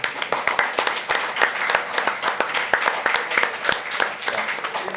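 A crowd at a live whiskey and bourbon podcast taping applauds, and dense overlapping claps keep up a steady, lively patter for several seconds, close and full, with no speech above it.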